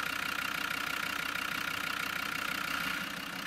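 A steady Land Rover Td5 diesel engine idles close by, a constant rapid rhythmic chugging with a low throbbing hum, unchanging throughout with no voices.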